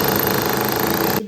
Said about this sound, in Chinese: 打透瓷砖